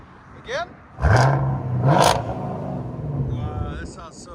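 Straight-piped 2023 Chevy Camaro SS with a 6.2L V8 revs up sharply, settles into a loud steady drone, then blips again before easing off, with a voice heard briefly and wind noise over the exhaust.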